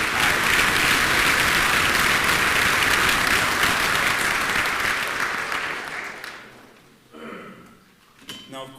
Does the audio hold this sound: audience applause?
yes